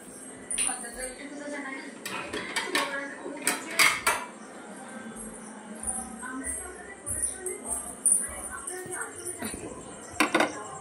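Plates and cups clink and knock together in a kitchen as dishes are gathered, with scattered sharp taps and clatters over steady room noise while a person talks.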